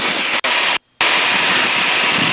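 Pitts S2C aerobatic plane engine roaring loudly and steadily up close in flight, with two brief dropouts near the start before the loud drone resumes and holds.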